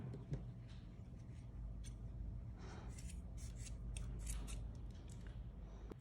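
Scissors snip through fabric scraps while sewing a small handmade piece with a fringe, a steady faint crisp cutting sound running close by for several seconds with no talking.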